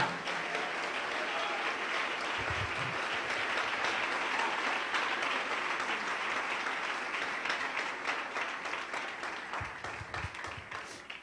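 Church congregation applauding at an evening service, sustained dense clapping from a large crowd that holds steady for several seconds and slowly fades toward the end.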